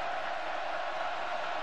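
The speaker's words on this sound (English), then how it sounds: "This crowd is not going to let Petty off the hook" Stadium crowd roaring at a college football game, Baylor at Kansas State: a loud, continuous wash of cheering and noise with no breaks, heard from within the stands.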